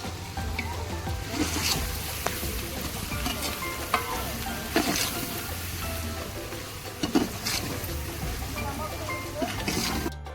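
Onions fry with homemade garam masala in a pan, giving a loud, busy sizzle broken by repeated spatula scrapes and knocks against the metal.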